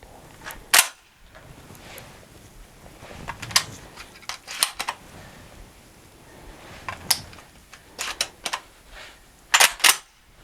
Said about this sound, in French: Chargement du fusil semi-automatique.